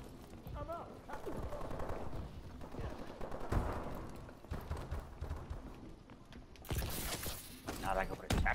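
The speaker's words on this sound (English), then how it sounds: "So I was shooting two people at the same time." Gunfire in the PS4 multiplayer shooter Advanced Warfare, with busy bursts of shots and fast action noise running continuously at moderate loudness, mixed with other game sounds.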